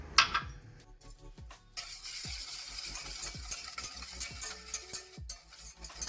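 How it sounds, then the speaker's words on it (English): Yogurt and sugar are stirred together in a large pot, producing soft scraping swishes and faint clinks of a utensil against the side in an irregular rhythm, fairly quiet and close, with no talking. "Mix it all together."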